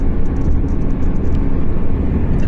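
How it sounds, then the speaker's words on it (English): A car on a mountain road at Jabal Akhdar, Oman, giving a lift to a hitchhiker, heard from inside as a steady, loud low engine and road rumble with wind noise and no break. "The first car picked me up."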